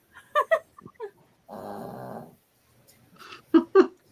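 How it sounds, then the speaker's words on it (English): A dog growls and whimpers in short bursts and a longer rumbling stretch, fairly close, with quiet pauses between, in a room where people sew and chat. "That dog."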